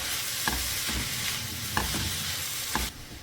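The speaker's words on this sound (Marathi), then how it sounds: "सो आमकां न्ही एक 2-3 मिनटांनी लो फ्लेमीन एका बरें फ्राय करून घेवंक जाय" Spinach, boiled sweet corn and onion fry gently in a pan over a low flame, a soft continuous sizzle broken by a few stirring knocks and scrapes.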